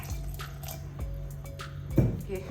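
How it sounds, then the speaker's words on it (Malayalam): A little water drips and splashes into a spice mix of roasted chilli, coriander and fresh coconut ready for grinding, a few soft wet drops over a steady low hum. "ഇനി ഇതിനകത്ത് കുറച്ച് വെള്ളം ഒഴിച്ച് നല്ല പേസ്റ്റ് പോലെ അരയ്ക്കാം"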